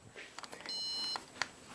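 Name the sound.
stud finder beeping when run across wall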